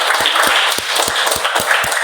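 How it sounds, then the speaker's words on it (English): An audience at a Toastmasters club meeting applauds in a loud, dense, continuous wash of clapping that lasts throughout. "So let's have a big round of applause"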